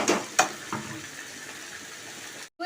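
Slit green chillies and tomatoes fry for an egg curry with a steady close sizzle, broken by a few sharp stirring scrapes near the start before a brief cut to silence.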